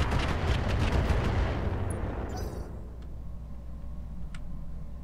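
Sustained mech weapons fire in the game Roguetech roars as a dense, heavy barrage, then fades into quieter ambience with a few faint clicks and ticks.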